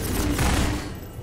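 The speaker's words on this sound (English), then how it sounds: "Who's shooting at me?" Gunfire in the Half-Life 2 video game, a brief loud burst of overlapping shots and a booming blast that fades out within about a second, with no talking.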